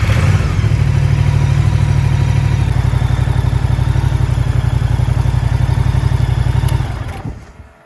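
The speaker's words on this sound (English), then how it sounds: "now I can enjoy the sound of this beautiful big engine" A big motorcycle engine rumbles loudly and steadily while riding, close up with a fast even pulse, then fades out at the end.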